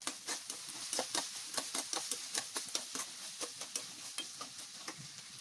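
Finely chopped onions fry in oil in a pan while being stirred, sizzling steadily under quick rhythmic scrapes and taps of a spoon, close-up and without voices.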